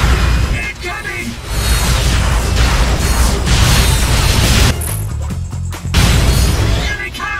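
Enemy saucer attack in Ratchet & Clank: Up Your Arsenal, in Blackwater City, with loud continuous booming explosions and crashing blasts layered over gunfire and game effects, filling the whole stretch without pause.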